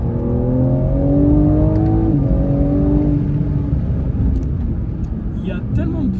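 A BMW M3 G80 Competition sedan accelerates hard, its engine note rising in pitch steadily as it pulls, heard loud and close from inside the car with people talking over it.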